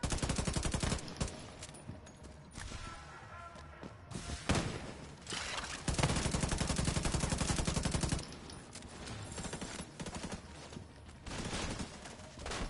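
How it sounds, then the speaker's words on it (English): Enemy gunfire in The Division 2 video game: repeated rapid bursts of automatic fire, loud and close, with brief pauses between volleys and occasional heavy thuds. "Okay, he's shooting me now."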